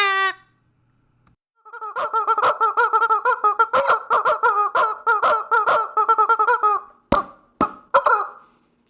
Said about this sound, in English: But the best of all is the chicken.